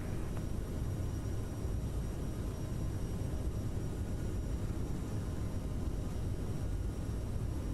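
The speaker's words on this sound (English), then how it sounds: "Nice little derated takeoff" An Aerosoft CRJ900 regional jet in Microsoft Flight Simulator makes a derated takeoff. Its engines give a steady, broadband roar with a faint high whine, constant in level and without talk.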